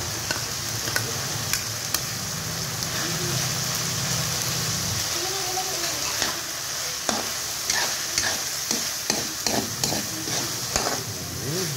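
Hotdogs sizzle and fry in a pan of spaghetti sauce, a loud, continuous crackle with intermittent scraping and clacking as the food is stirred up close.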